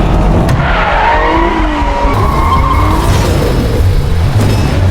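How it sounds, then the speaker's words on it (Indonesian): Car skidding with screeching tires during a race, loud and continuous over a steady engine roar, with no talk. "karena bukan pembalap, jaksa Kim mengalami kecelakaan."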